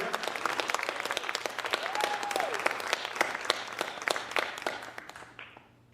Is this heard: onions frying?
no